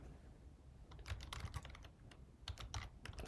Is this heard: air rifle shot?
no